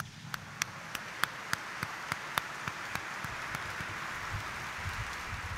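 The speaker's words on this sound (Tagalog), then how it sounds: "itaas ang kamay at pumalakpak ng malakas" A congregation claps at a Christmas feast service for Jesus Nazareno, faint sharp claps at an uneven pace over a steady, rain-like wash of distant room noise.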